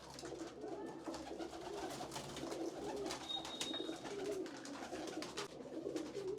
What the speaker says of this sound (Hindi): ये सभी बड़े कबूतर हैं ना आपके?